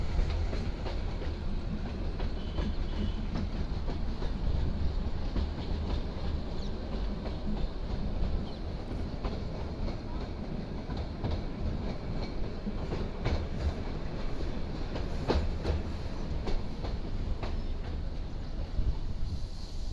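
Continuous rumbling of a heritage train rolling along the tracks near Phulad railway station, Rajasthan, with rhythmic clacking and rattling throughout, loud and close.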